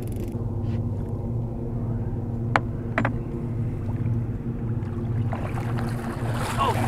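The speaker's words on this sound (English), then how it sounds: "There's a big old hovercraft coming." A large, loud hovercraft passing on the St. Lawrence River, a steady low engine rumble and droning hum under wind and water noise, with a couple of sharp knocks.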